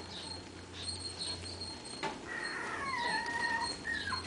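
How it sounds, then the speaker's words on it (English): Cavapoo puppies give thin, high whimpers and squeaks that rise and fall from about midway on, faint against low steady room noise with a couple of soft knocks. "These are Cinnamon's, not Scarlet's puppies."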